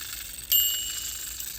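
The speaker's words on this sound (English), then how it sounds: "You can hear the whistle, the bell." A single bright ding of the small bell on a Marx Joy Line clockwork toy passenger train, quick and clear, then fading out over a faint background hiss.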